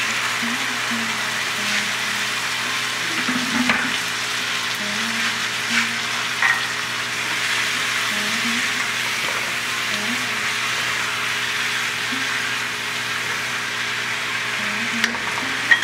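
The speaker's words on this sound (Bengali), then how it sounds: "একটু গরম জল, ফুটন্ত গরম জল দেবো" Steady sizzling and frying from a pan on the stove as boiling hot water goes in while cooking sambar dal for masala dosa, a continuous bubbling hiss with faint clinks, moderately close, no talking.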